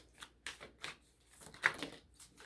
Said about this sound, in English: let me shuffle these for your bonus messages